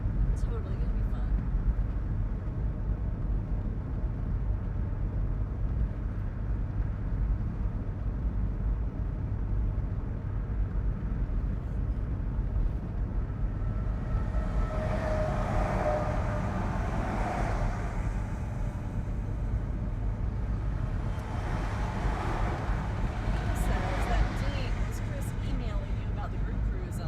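Continuous low road and engine drone inside a moving car, with people talking over it at times.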